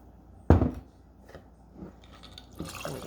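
Apple cider poured over ice into a cocktail shaker, opening with a sharp clink and rattle, then a brief trickle of liquid and further splashing and ice clatter near the end, close up.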